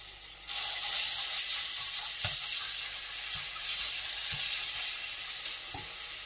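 A spoonful of green chili, ginger, garlic and cumin paste hits hot oil in a pan, giving a loud, steady sizzle with a few soft stirring knocks, no voices.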